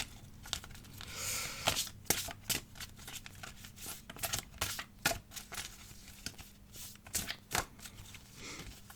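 Very thin playing cards shuffled by hand, a run of close, crisp riffling and flapping bursts in an irregular rhythm, mixed with light papery crinkles, with no one talking.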